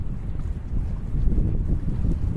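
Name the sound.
wind gusts during a Naish foil session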